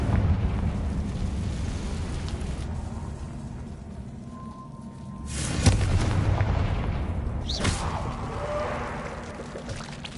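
A Confringo fire spell bursts in Hogwarts Legacy with a loud blast, then a second sharp explosive crack follows about two seconds later. Both ring out over a steady low rumble of background game ambience.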